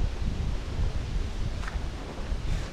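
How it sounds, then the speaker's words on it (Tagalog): Strong wind roars steadily through garden plants, a dense, loud, blustery rush with gusting low rumble from the wind hitting the microphone, continuous and without talk. "Lakas ng hangin."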